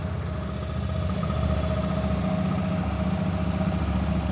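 A Royal Enfield Shotgun 650 motorcycle engine idles just after starting, a steady, even low rumble with a faint mechanical hum, close and unaccompanied by talk.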